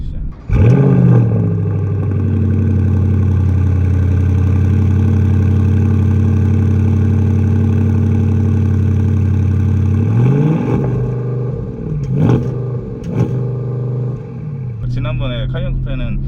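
A Porsche Panamera GTS engine idles with a deep, steady exhaust rumble, then revs briefly a few times; a person talks over it near the end.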